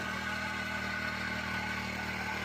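A four-stroke petrol engine on a mini weeder runs steadily at a constant idle, a continuous near mechanical hum with no voices and no change in pitch.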